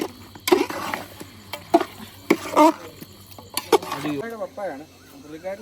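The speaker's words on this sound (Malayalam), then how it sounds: "കാശ്മീരി ചില്ലി അതിനകത്ത് മുളക് പൊടി കുറച്ചിട്ടിട്ട് ഇളക്കി" Kashmiri chili powder is stirred into a frying Kerala-style mutton curry masala, with a spoon scraping and tapping the pan over a soft sizzle, and a voice talks briefly near the end.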